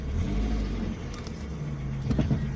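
A car reverses slowly with the steering locked fully left while parallel parking. A low, steady engine hum rises slightly near the end, with no talking.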